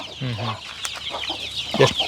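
Native country hens and their young chicks at a small backyard brooding setup make close, short clucks and soft chirps in quick, uneven bursts, with a faint voice in the background.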